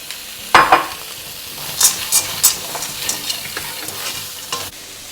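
Frozen peas (200 grams) hitting a hot pan with amchur and other spices, a burst of loud hissing sizzle followed by several stirring scrapes and clanks over a steady fry, close and without talk.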